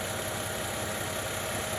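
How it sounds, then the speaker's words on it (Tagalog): A Volvo XC90 engine idles steadily with a constant, even mechanical hum and slight whine, close and unchanging throughout, the vehicle under repair for a whining power steering pressure hose. "Guys, umaandar na yung makina."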